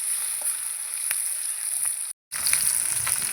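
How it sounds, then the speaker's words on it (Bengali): Steady, close sizzling of catla fish frying in a pan of oil, a continuous crackling hiss broken by a sudden short gap of silence before it resumes. "সব মাছগুলো দিয়ে দিলাম"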